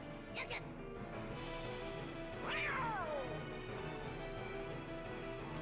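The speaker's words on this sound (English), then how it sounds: "Lucifer the cat is our boss for Castle of Dreams for Ventus" A cartoon cat lets out a drawn-out, falling meow during the Lucifer boss fight at Castle of Dreams in Kingdom Hearts Birth By Sleep, rising above constant game music and effects.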